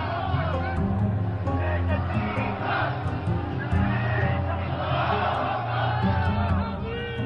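Hateful crowd massed on the Place de la République in France, shouting and bellowing in a steady, dense roar of voices with cries and whoops rising out of the babble.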